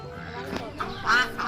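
Ducks quack while moving into clear water, several short, nasal calls in quick succession close by, with a person talking briefly alongside.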